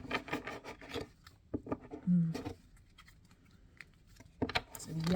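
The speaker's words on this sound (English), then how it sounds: "So the Animal Oracle deck, I'll shuffle, but it's been shuffled, but I'll just shuffle again" An animal oracle card deck being shuffled by hand, with soft papery riffles and rubbing in short bursts, fairly close and quiet, with a few murmured words in between.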